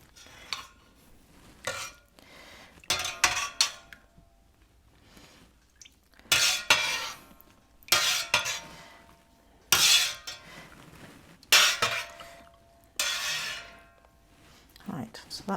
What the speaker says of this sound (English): I'm going to make sure that is stirred all the way through and well and truly mixed in.